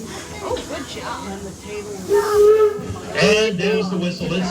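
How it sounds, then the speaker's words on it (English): A steam locomotive at Greenfield Village lets off a sustained whistle and steam hiss, loud and close, with people talking over it throughout. "And there's the whistle."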